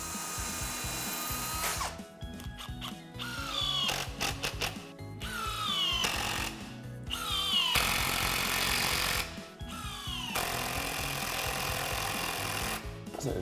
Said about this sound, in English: Pre-drill it and then add a screw.